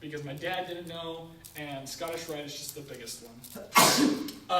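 Someone speaks steadily, then a sharp, loud sneeze breaks in near the end before the talking resumes.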